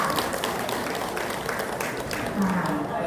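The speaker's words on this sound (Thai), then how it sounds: "ขอเสียงปรบมือให้ท่านเป็นอย่างสูงเลยค่ะ" An audience at a farewell gathering claps in a soft, continuous patter, fairly faint and distant, with some voices talking over it.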